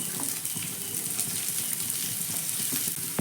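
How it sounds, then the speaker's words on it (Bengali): Steady sizzling of chopped onions and green chillies frying in a pan, a continuous crackle close by with faint scraping, and no voices. "পেঁয়াজ লঙ্কাটাকেও হালকা একটু ভেজে নেব"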